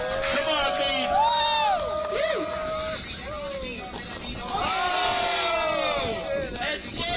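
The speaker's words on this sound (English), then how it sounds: "give him a round of applause" At a motocross freestyle finals at Hollister Hills, California, a crowd cheers and whoops with shouted voices and babble, rising in waves and rolling along, while people talk loudly over it.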